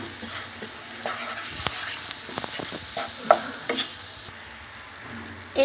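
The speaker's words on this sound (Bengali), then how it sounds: "ফুলকপি ভেজে রাখা প্যানে আমি আদা বাটা, রসুন বাটা, হলুদ গুঁড়া আর রাঁধুনি মিট মশলা দিয়ে আমি এটাকে ভালো করে মশলাটাকে কষিয়ে নিব।" Ginger paste, garlic paste, turmeric and meat spice mix fry in a pan after cauliflower, giving a steady close sizzle with repeated scraping stir strokes, then a sudden drop to quieter frying near the end.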